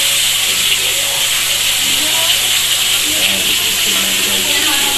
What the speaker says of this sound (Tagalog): Okay guys, magpiprito na ako ng galunggong.